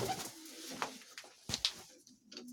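Young Polish lynx and racing pigeons coo close by in a loft, giving a few soft, throaty calls with small rustles between them, with no speech.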